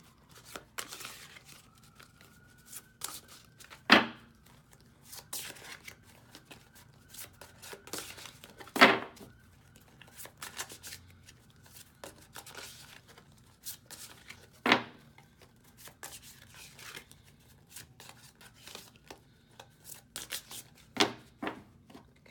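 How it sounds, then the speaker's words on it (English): Zodiac cards being shuffled by hand in a quiet room, with soft papery riffles and rustles broken by several sharper snapping flicks spaced out across the stretch. "So I'm just going to shuffle these, and whatever card comes up, that'll be the next video coming out."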